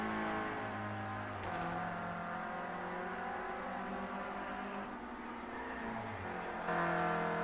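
Touring race car engines in Project CARS 2 qualifying, a steady high whining rev with shifting pitch as the car accelerates, continuous and moderately loud with no voices over it.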